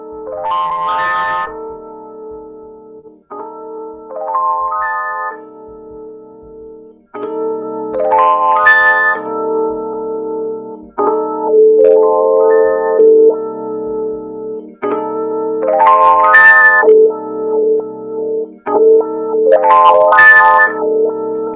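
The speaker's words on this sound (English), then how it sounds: "As you can hear there is like a wah in the background." A looping synth or guitar phrase with a sweeping wah effect from Logic Pro X, tones opening and closing in repeated cycles with short gaps between phrases.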